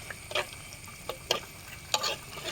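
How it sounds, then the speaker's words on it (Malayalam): Fish pickle stirred in a pan, a few short scraping clinks at irregular intervals over a faint background hiss. "എന്നിട്ട് നമ്മൾ നന്നായിട്ടൊന്ന് ഇളക്കണം."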